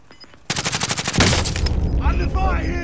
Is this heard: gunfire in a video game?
yes